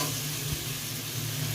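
Jackfruit pieces go into a pan of sizzling, already-fried potatoes, giving a brief, steady frying hiss with a light stirring scrape over a low hum.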